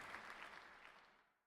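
Polite golf clapping from a small group in the game Sucker for Love, a soft patter of applause that is faint and brief, tapering off to silence within about a second and a half.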